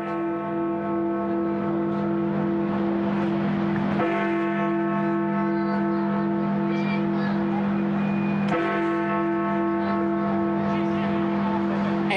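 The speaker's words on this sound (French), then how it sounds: "Et si la cloche de la tour de Westminster retentit" The Big Ben bell in the Westminster tower in London strikes the hour, deep sustained tolls with long ringing overtones, a fresh strike coming every few seconds over a continuous loud background.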